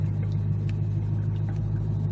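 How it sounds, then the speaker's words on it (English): An Audi R8 supercar engine runs in the cold, a steady deep rumble with low idle drone holding constant throughout, close and continuous with no voices. "So I started the car up"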